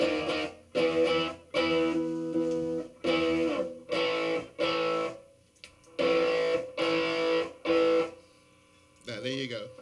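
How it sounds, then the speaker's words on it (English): A Fender Telecaster electric guitar plays through distortion in a series of loud, sustained chord stabs separated by short silences, with a bent, warbling note at the end. "when you play a telly through like distortion"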